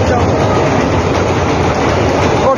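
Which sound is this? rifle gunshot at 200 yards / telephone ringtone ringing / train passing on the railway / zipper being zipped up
train passing on the railway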